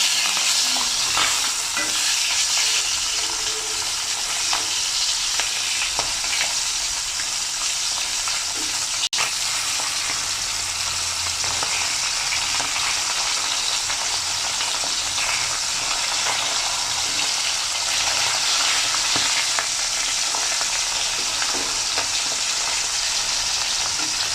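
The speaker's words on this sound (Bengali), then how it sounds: "আমি 1 মিনিটের মতো করে ভেজে নিচ্ছি।" Pabda fish fry in hot oil with a loud, dense, continuous sizzle and crackle, close up, steady for the whole stretch with one brief sharp tick, no one speaking.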